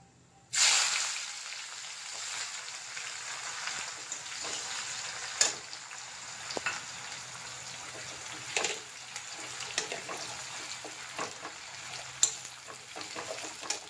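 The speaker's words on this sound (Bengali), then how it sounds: "আমরা পেঁয়াজ ভেজে নেব" Onions frying in oil with bay leaf, chillies and cumin, a sudden burst of sizzle as they hit the pan, then a sustained crackle with scattered sharp stirring clicks.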